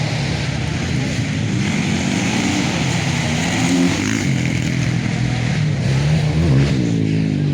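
A pack of 50cc motorcycles at the start of an intermediate open class race final: a dense, loud, continuous buzz of small engines revving and droning together, with an announcer's voice over a PA.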